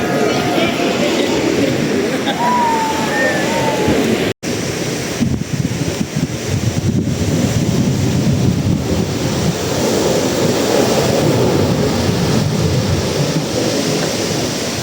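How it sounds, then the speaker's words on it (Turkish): Ocean waves surge onto the shore of Siargao Island, a loud, continuous rushing roar of surf buffeted by wind noise, with a brief dropout near the start. "dalgalar gitgide artıyor ve su kıyıya hızlı ulaşmaya devam ediyor"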